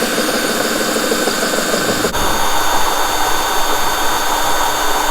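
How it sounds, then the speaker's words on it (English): A power drill whines in a loud, continuous, high-pitched drone as it bores into glass, with a brief dip in the middle. "Got it straight up now where the drill is going directly up and down."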